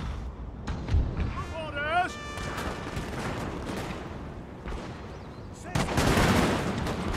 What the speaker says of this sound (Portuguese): os canhões salvaram essa batalha aqui